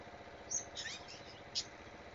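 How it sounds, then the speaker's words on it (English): A green cheek sun conure parrot gives a few short, sharp chirps at moderate loudness in an indoor room, spaced apart over a low steady hum. "He is a sun conure, green cheek sun conure."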